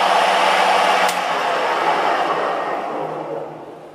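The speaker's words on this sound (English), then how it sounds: "You just kick the switch, machine starts up." Machine running on a 3-phase power supply hums steadily and loudly from the start, with a sharp click near one second, then gradually fades and winds down toward the end.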